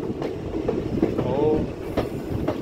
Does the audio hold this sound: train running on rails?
yes